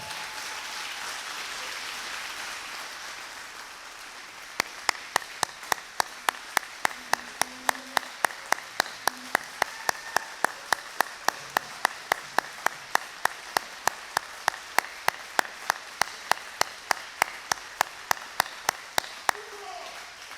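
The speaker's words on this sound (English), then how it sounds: "You guys jumped the gun on our applause" After a few seconds of murmuring room noise, an audience honoring volunteers breaks into sharp, evenly spaced clapping in unison, a steady rhythmic beat that carries on to the end while a voice speaks faintly beneath.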